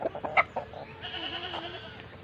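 Chickens fed eggshells cluck softly at close range, with a few short, sharp pecks and small calls scattered through a quiet farmyard.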